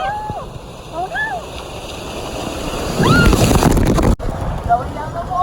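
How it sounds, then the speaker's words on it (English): Water rushes and splashes at a waterpark as riders pass under a big waterfall, loud and broadband for a couple of seconds amid wind noise and excited voices. "Here comes the waterfall."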